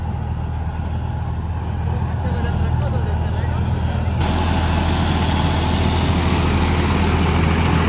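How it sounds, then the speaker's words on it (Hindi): A John Deere 5050E tractor pulls a Lendforce rotavator through a field, tilling about four inches deep; a steady, droning engine rumble runs throughout and grows louder and rougher midway through, with no talk over it. "इस तरह की जुताई ट्रैक्टर कर रहा है"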